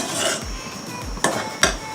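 A metal spoon knocks against a pot of mango curry, giving a few sharp clinks over a steady low background hiss, with no talking.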